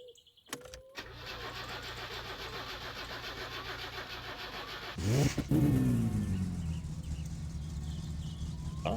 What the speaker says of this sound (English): That actually sounds like the engine battery's a bit flat.